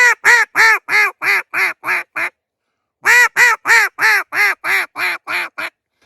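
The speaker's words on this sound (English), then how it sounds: "now if I add my hand, I'm going to add a lot more duck to the call." A duck call blown with a hand cupped over it gives two runs of loud, close, descending quacks, the first of eight notes and the second of nine, split by a short silence.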